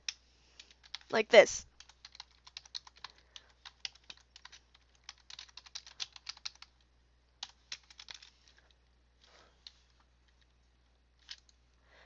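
Keys tap on a computer keyboard in quiet, scattered clusters, faint and close, with a brief voice near the start and long gaps between bursts.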